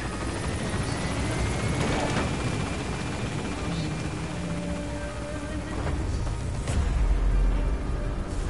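A helicopter in the video game Metal Gear Solid V climbs in altitude, its rotor roar a steady, loud, continuous drone that swells slightly near the end.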